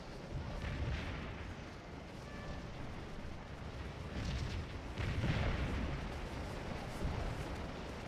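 Scourge of War: Antietam artillery battery firing on a Civil War battlefield, a continuous rumbling wash of distant cannon booms and musketry, steady and dense with swells in loudness rather than distinct separate shots.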